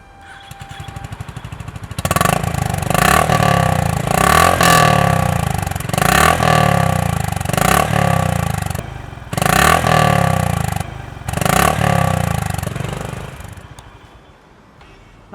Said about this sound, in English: we can't ride the motorcycle, but we can start it and just have a listen